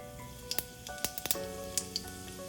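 A quarter teaspoon of cumin seeds sizzles in a tablespoon of hot oil in a pan, a steady crackling fry broken by several sharp pops and spits, close and clear with no talking.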